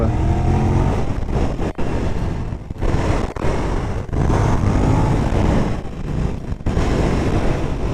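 Ducati 999 sport motorcycle fitted with a Termignoni exhaust, heard while riding: a loud, continuous engine drone mixed with rushing wind, with a few brief dips as the throttle is eased.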